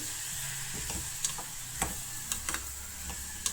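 Chopped vegetables and peas frying in hot tempering oil in a pan: a steady soft sizzle with occasional small clicks and taps as the mixture is stirred.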